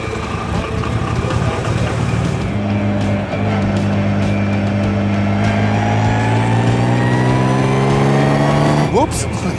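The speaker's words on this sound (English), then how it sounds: "Once again, Jay let me take the wheel. What a guy, and what a car" A twin-turbo Bentley drives with a loud, continuous engine drone, its pitch rising steadily as it accelerates before a sharp shift near the end, with a voice talking over it.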